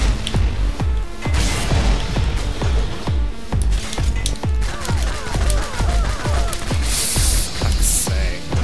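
Rapid video game gunfire in Bionic Commando Rearmed, a steady rhythmic stream of loud punchy shots with ringing tails, close and continuous, with brief higher electronic effects near the end.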